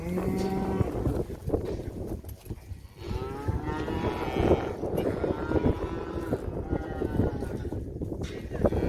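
Cattle moo repeatedly, loud and close, as cows are driven out for a herd sale during a drought, with low drawn-out calls overlapping one another amid general barnyard noise.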